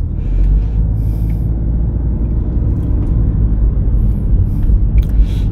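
A car on a driving test road course pulls away, its engine rumbling low and steady at close range with occasional faint clicks, no voices.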